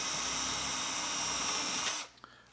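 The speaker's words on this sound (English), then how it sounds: "Drill my second hole." A loud, steady drill whine bores a hole for about two seconds, then stops suddenly, followed by a small click.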